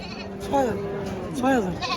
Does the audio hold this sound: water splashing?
no